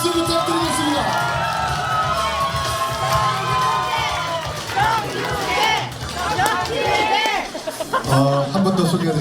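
A crowd at a Reform Party candidate's campaign office opening in Hwaseong cheers and shouts loudly, a dense, steady roar of voices that swells near the end.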